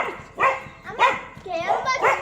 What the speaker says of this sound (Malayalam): ജയ്, ഇത് മൃതപ്രായനായ ഒരു നായയാണ് ഈ രീതിയിൽ രക്ഷപ്പെട്ടത്